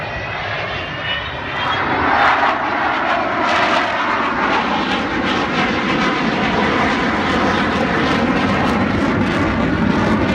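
Avro Vulcan XH558 bomber flying its airshow display at Southport, a loud sustained jet roar. It swells after the first couple of seconds and holds powerfully to the end, alone with no talk.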